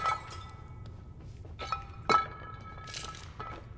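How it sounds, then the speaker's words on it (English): In the video game Little Nightmares 2, footsteps crunch across broken glass, each step a brittle clink and crackle of shards, spaced unevenly over a low background hum. "you just stepped on glass"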